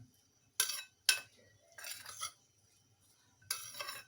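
Spoon clinking against a bowl while lemon juice, salt and black pepper are mixed into a salad, several sharp metallic taps and scraping stirs spaced out, close and clear with no talk.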